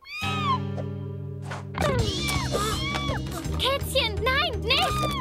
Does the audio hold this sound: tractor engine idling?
no